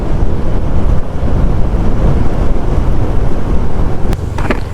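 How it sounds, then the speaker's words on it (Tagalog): Strong wind buffets a rider on a moving motorcycle, a loud, constant roaring rush with heavy low rumble and no breaks throughout. "Lakas ng hangin, grabe."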